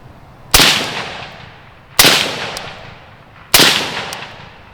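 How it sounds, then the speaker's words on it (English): Three sharp suppressed .308 rifle gunshots fired at close range, each a loud crack with a gassy decaying tail, spaced about a second and a half apart. "308 is not that bad suppressed, but not near as quiet as a lot of your movies out there will make you believe"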